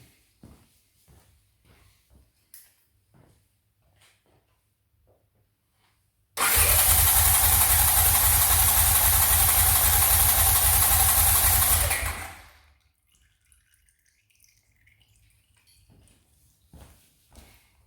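A Honda CX500 motorcycle engine cranks loudly and steadily for about six seconds with the kill switch off after an oil change, a dense mechanical whirring that stops abruptly, with quiet clicks and handling noises around it.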